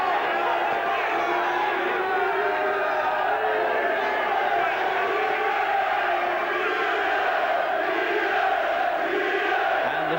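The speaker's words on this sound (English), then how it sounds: "cheering their man on to what they are convinced is victory." A boxing crowd at a championship fight roars continuously for their fighter, a dense wall of cheering and shouting voices echoing through the arena without a break.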